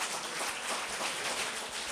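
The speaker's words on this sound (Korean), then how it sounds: "제 말에 동의하신 박수 한번 부탁드립니다" Soft, continuous applause from an audience at a Korea University graduate school of education anniversary gathering, a quiet, even patter of many hands that sounds somewhat distant.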